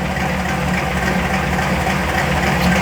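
A Dodge D100 shop truck's 417 stroker engine idles fully warmed up at about 850 rpm, a steady close low rumble with no talk over it.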